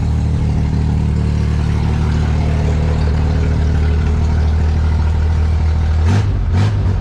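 A 1963 Corvair engine runs loud and steady at a rough idle, then revs twice in quick succession as the gas pedal is blipped near the end, close up with no speech.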